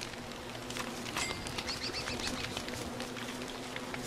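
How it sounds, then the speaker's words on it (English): Bird in the survival game Don't Starve Together flutters and chirps in short bursts over a quiet game ambience, with faint wing flaps and brief tweets. "Oh, hey, look, another bird."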